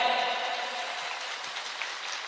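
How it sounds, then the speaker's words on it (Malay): Audience applause at a religious gathering, a steady hiss-like wash of many hands clapping, fairly distant and even throughout. "tepuk tangan untuk IHM"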